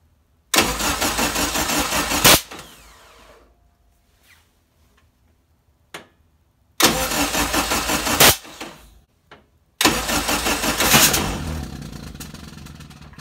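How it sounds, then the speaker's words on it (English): A Toyota Celica fitted with a swapped Honda K20 engine cranks loudly in three separate bursts, each two seconds or less, separated by quiet pauses. The last attempt catches and settles into a rough running note that fades. "All right, it did fire up."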